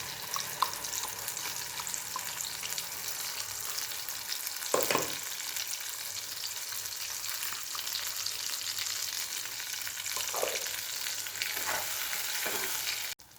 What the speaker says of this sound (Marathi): आता हे व्यवस्थित असं परतून घ्यायचं आहे त्याला तेल सुटायला लागलं